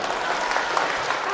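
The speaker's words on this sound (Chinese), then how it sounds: "上来就要掌声啊" Steady, dense applause from a theatre audience at a comic crosstalk stage show, a brief burst of many hands clapping at moderate volume.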